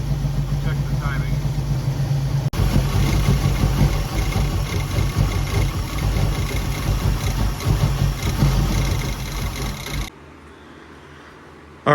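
A 1966 Ford Mustang engine idles with a steady, loud, close rumble that runs unbroken for about ten seconds, then drops off sharply to a faint background hum.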